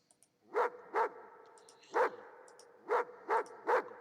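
Dog in the tank game World of Tanks gives six sharp, loud barks in irregular pairs and singles over a quiet background, with no talking.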